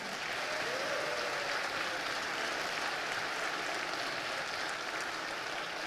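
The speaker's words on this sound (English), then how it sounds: "Let's give yourselves a round of applause again." Sustained audience applause fills a town hall gathering in Atlanta, a dense, steady wash of clapping that holds at even loudness throughout.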